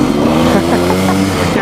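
A 2019 Beta 390 RR-S dirt bike on its stock exhaust, idling loud and close with a steady throaty drone and slight rev swells, while people talk over it.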